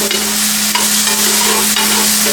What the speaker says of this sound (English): I'm going to mix this around a little. It's already starting to brown.